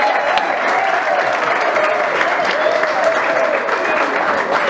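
Warm applause from a gathered crowd at a surprise 50th birthday celebration for a reverend apostle in Canada, steady and full, with some voices and music faintly underneath.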